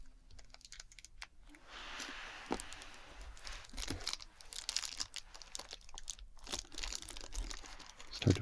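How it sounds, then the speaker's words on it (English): Crinkly plastic wrapping is peeled off a small CheatPak package, close up and quiet, with steady rustling, crackling and little tearing snaps throughout. "So let's start to unwrap this and have more crinkly sounds."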